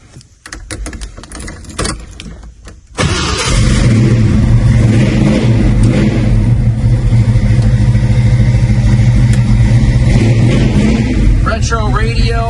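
1971 Ford Mustang Fastback with a 347 stroker V8 cranking and firing after a few seconds of quiet handling noise, then settling into a loud, steady, rumbling idle close up to the end.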